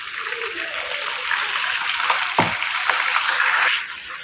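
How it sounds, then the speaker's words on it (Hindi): Water is poured into a pan of browning onions while cooking chicken pulao, setting off a loud hissing gush and sizzle that keeps going steadily and then cuts off sharply near the end. "जब इतना सा ब्राउन हो तो आपने इसमें थोड़ा सा पानी शामिल कर देना है"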